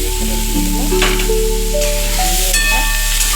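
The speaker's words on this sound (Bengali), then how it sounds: "দেওয়ার পরে এই পেঁয়াজ রসুনগুলো তেলে দিয়ে দিলাম।" Chopped onion and garlic sizzle steadily in hot white oil in a home kitchen pan, a loud, continuous frying hiss that runs the whole way through, with faint tonal hum in the background.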